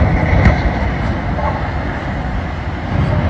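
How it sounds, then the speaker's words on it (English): Loud, heavy rumbling of derailing rail cars grinding and clattering close by, a continuous dense roar with occasional metallic squeals. "We got a big train derailment going here"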